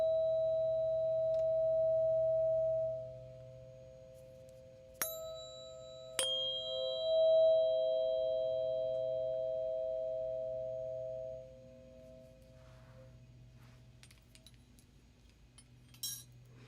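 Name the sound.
sound bath tones and chimes for relaxation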